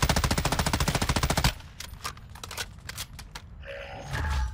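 A rapid, loud burst of automatic gunfire in Modern Warfare II Warzone 2 runs for about a second and a half, then gives way to scattered clicks, footsteps and other game sounds.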